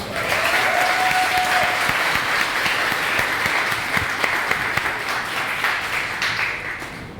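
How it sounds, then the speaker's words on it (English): Loud, sustained applause from a large audience at a graduation ceremony fills the whole clip, dense and even, tapering slightly at the end. "So give him a round of applause."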